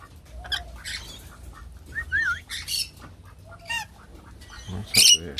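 Rainbow lorikeets screech and chirp in harsh, scattered bursts, some close and loud, others farther off, with quiet outdoor background between calls.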